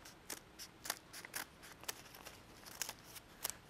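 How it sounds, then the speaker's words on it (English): Scissors make one straight cut through folded paper, a run of crisp, close snips and crunches spaced irregularly, quiet and alone with no voices. "take my scissors, it's not strict origami here, and I make one complete straight cut"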